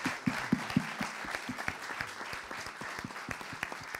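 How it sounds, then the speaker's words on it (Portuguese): A small audience at the presentation of a book on Portuguese fisheries claps in a soft, scattered round, a few sharp individual claps standing out at first before settling into a light, steady patter. "Eu vou então pedir apenas mais uma salva de palmas para encerrar esta apresentação deste livro."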